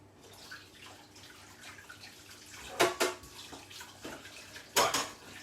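Hands are washed under a running kitchen tap, with a steady faint flow of water and a few louder splashes and clatters near the end.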